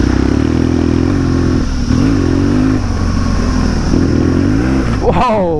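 A Harley-Davidson Pan America motorcycle rides off-road over sticks and logs, its engine droning loud and close with shifting revs and a sharp rising rev at the end, plus some clatter from the terrain.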